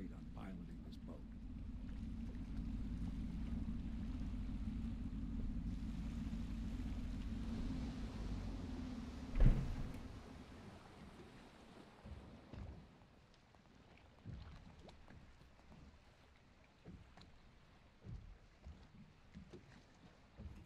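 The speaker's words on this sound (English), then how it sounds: "I should concentrate on piloting this boat." A boat piloted through water in the stealth video game Dishonored, with a steady low engine rumble and watery wash that fades after a sharp knock midway, leaving sparse splashes and faint ambience.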